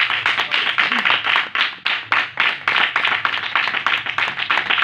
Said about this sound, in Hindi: यीशु के पाक कलाम के लिए एक बार जोरदार तालियां